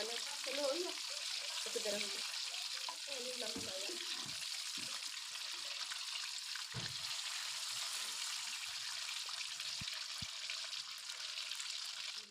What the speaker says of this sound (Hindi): 2 मिनट तक फिर इसे फ्राई करेंगे। इस पे गोल्डन कलर आ जाए।